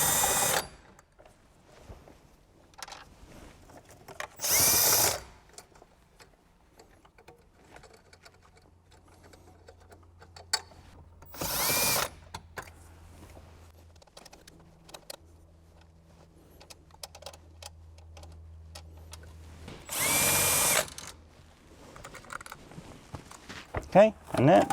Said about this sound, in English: this will expose the 4 10mm bolts we need to remove.